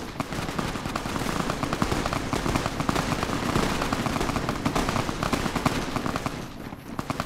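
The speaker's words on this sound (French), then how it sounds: "Ça tire de partout, là." A Fallout: New Vegas firefight with a warzone mod, Legion troops involved, brings dense, continuous gunfire crackling from all sides, with overlapping rapid shots and bursts that are loud and unbroken throughout.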